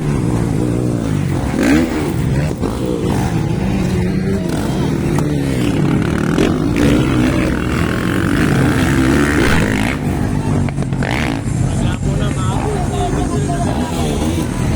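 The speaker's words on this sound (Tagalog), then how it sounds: "Sobrang lakas mga idol ng motor ni Michelin Rivera." Drag racing motorcycle revving hard and accelerating, a loud raspy engine roar with shifting pitch over crowd babble, sustained throughout.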